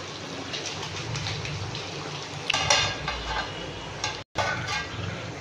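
Pieces of sea bass fry in a pan on a low flame with a soft, steady crackling sizzle and a few utensil clinks, close and moderately loud, broken by one brief silent gap.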